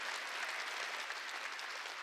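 Church congregation clapping hands together during a worship service, a dense, steady wash of applause holding at even loudness throughout with no voices breaking through.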